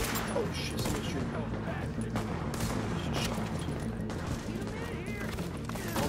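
Gunfire in the video game Tom Clancy's The Division, a dense spread of shots and bursts running under steady game noise, with voices talking over it.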